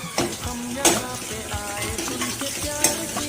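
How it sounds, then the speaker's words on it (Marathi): Crushed garlic and finely chopped chillies hit hot oil in a pan, giving a soft sizzle with a few sharp clinks and stirring scrapes of a utensil against the pan. "आता बारीक चिरलेल्या मिरच्या टाकायच्या।"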